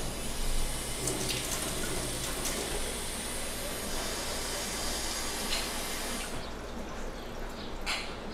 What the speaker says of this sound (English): And then you just add cold water.